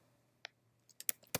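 Several sharp keystrokes on a computer keyboard while a command is typed into a terminal, one isolated tap and then a quick cluster of clicks, close and fairly quiet over a low steady hum.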